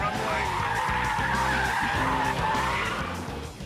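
A Mercedes Brabus SL brakes hard on a runway, its tires skidding with a sustained loud screech over the engine for a few seconds before fading slightly at the end.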